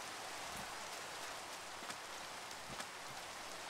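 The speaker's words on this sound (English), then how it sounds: "Is it because of this rain?" Steady rain falls in the Minecraft video game, a constant even hiss of drops with no pauses, heard alone.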